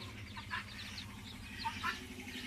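Soft, repeated hen clucks and chirpy calls over a low steady background hum, moderately close, with no voices.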